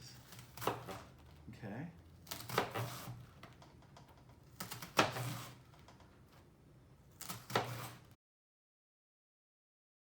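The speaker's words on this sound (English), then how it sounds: "now I'm going to start making very thin slices" Knife slicing a quartered cabbage into very thin shreds for sauerkraut, heard as four bursts of crisp cutting spaced a couple of seconds apart, close and moderately loud, with a brief spoken word near the start.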